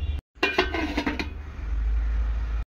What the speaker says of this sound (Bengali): দিয়ে দেব কয়েকটা কাঁচা লঙ্কা, দিয়ে ভালো করে ঢাকা দিয়ে দেব ডালটা